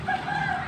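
A gamecock rooster kept for cockfighting lets out a short, close, clear crowing call.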